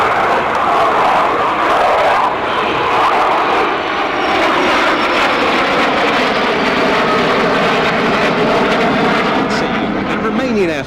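A jet roars loud and steady in a flypast of an Air Force F-16AM at the RIAT 2024 airshow, its pitch shifting as it passes overhead, with a commentator's voice underneath.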